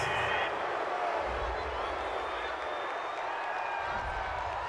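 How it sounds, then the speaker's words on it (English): A home crowd at a gridiron football game roars in approval of a penalty flag on a fourth-down play, a dense, sustained wash of distant cheering and clapping filling the stadium. "This home crowd, they're happy with that call."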